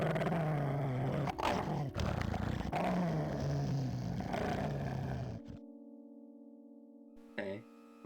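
A dog in the video game Police Quest: Open Season growls low and rough for several seconds, then cuts off, leaving a faint steady electronic hum and a brief later blip.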